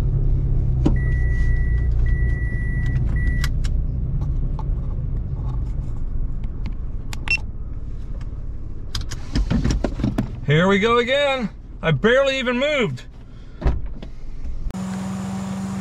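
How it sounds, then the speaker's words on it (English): Loud engine and cooling-fan drone from a car with a noisy radiator while road cruising, a steady low rumble running under intermittent speech, with a brief squeaky whine near the end. "the radiator on this car sucks big time, makes so much noise"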